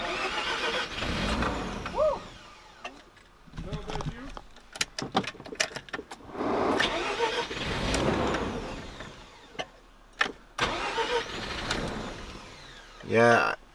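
A used Mazda RX-7 FC's rotary engine sputters and cuts out, giving rough, uneven rumbling that surges and sags with several dropouts and a brief mechanical whir at the end, while people talk over it inside the car.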